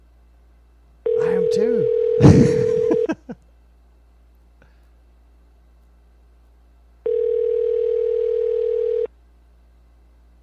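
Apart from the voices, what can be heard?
telephone ringing tone on call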